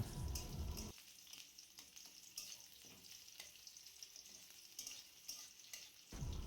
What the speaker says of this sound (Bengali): তেল আমাদের গরম হয়ে গেছে এবার পেঁয়াজ কুচিগুলোকে এর মধ্যে দিয়ে দেবো দিয়ে ভালো করে এটাকে ভেজে নেব